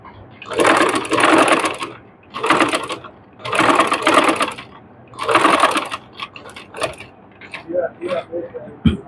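A sewing machine stitches around the neckline of a readymade dress, running in four long bursts, then several short stop-start runs, close and loud.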